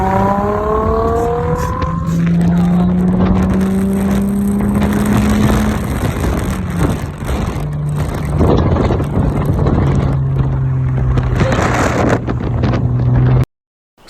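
A lowered Nissan 350Z on Voodoo Thirteen arms with soft springs revs hard under acceleration on flat ground. The engine note climbs sharply at first, then settles into a loud, steady drone over wind noise, with no talk.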